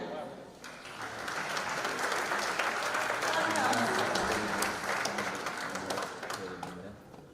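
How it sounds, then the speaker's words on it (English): Steady applause from a sizeable audience at an opening ceremony, clapping rising and holding for several seconds before easing slightly, with faint voices mixed in. "We invite by a big applause dear President Miss Annette Cardenas for presentation of th"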